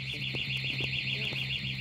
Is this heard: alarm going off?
yes